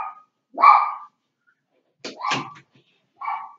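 A dog barks in the background in a few separate bursts spaced apart by silence, at moderate loudness and a little distant.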